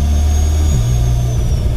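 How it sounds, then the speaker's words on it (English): A Mitsubishi Evo X fitted with a new turbo, its engine still cold, gives a steady high turbo whistle over a loud, low engine drone heard from close by. "that whistle, it whistles so loud"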